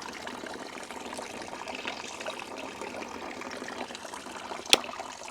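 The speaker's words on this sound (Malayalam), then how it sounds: "വെള്ളം നല്ല രീതിയിൽ വീഴുന്നുണ്ട്" Water pours steadily from the pump of a homemade air cooler, a close, even splashing trickle that runs throughout with one sharp knock near the end.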